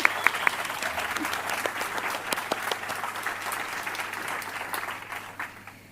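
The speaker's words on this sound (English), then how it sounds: "Let's give them a huge round of applause." An audience at the 2025 New South Wales Australian of the Year Awards applauds the nominees, with dense, steady clapping and a few sharp claps at the start, tapering off gradually near the end.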